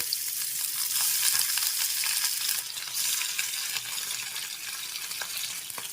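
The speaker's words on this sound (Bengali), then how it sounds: "এবার মাছ ভেজে নিতে হবে" Bata fish fries in very hot oil in a wok over a high flame, giving a loud, continuous crackling sizzle that stays close and steady with no talking.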